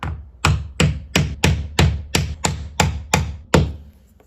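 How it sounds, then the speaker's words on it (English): A hammer strikes a scrap piece of wood laid over a door hinge pin, driving it in with ten evenly spaced, loud, close knocks, each a sharp thud with a short ring. "I get a scrap piece of wood and I put that on top and then I hammer it in."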